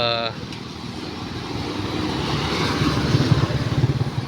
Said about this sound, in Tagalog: medyo mabibilis ang mga patakbo ng mga sakyan dito ano, ng mga motor na bumabiyahe